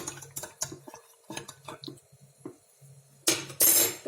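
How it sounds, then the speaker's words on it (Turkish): Ethyl alcohol diluted with water, one glass of alcohol to two of water, being stirred in a jar for a redbud liqueur, giving a run of light scraping clinks that end in two louder, brighter splashes. "Bunu karıştırıyorum."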